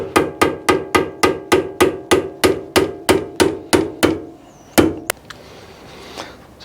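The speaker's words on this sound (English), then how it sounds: "I'm only just very lightly tapping the very edge and keep turning it" A hammer taps lightly on the edge of a metal workpiece as it turns in a lathe, a dozen sharp, evenly spaced metallic knocks about three per second, close and loud, then a few scattered clanks and quiet.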